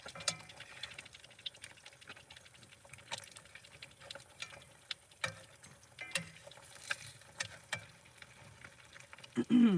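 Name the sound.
eggs frying in a pan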